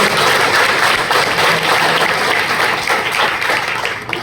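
Loud, sustained applause from a seminar audience in Uniyara, a dense wash of clapping that holds steady for several seconds and tapers slightly at the end.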